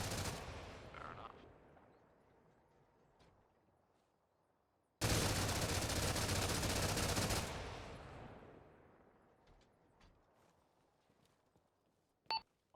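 Arma Reforger rifle fire emptied at an AA gun, a loud sustained burst of rapid automatic shots lasting a few seconds, then a long fading echo and a couple of sharp clicks and thuds near the end.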